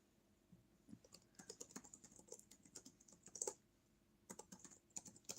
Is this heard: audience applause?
no